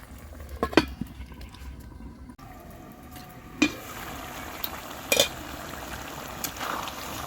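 Chicken cooking in a covered pan with no oil, releasing its own water and fat: a faint low sizzle with occasional clinks of a lid and utensil against the pan.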